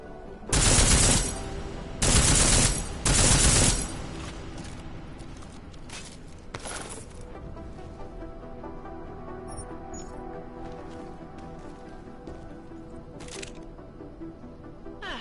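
Silenced weapon fire in Deus Ex: Mankind Divided, heard as three loud bursts of gunfire in quick succession, then a sharper single report and a few fainter cracks over steady low game ambience.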